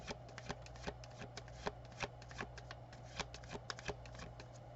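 Tarot cards being shuffled and drawn, a steady run of close, crisp riffling snaps and card slaps repeating through the stretch over a low constant hum, with no talking.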